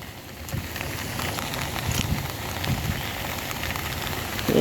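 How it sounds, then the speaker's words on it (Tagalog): Heavy rain pours down on an open lot, a dense, steady hiss of drops drumming on surfaces that stays loud and even throughout, with no voices. "Grabe na ang ulan."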